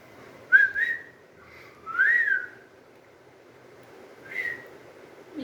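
A person whistles to a pet parrot in a few short, clear, close rising whistles spaced apart, with quiet pauses between them and no talking.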